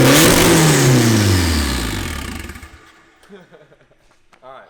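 A turbocharged KA24DE-T engine swapped into a rear-wheel-drive Honda Civic revs loudly and close with a hood dump, then the rising roar drops away to a rough, uneven idle as a voice talks.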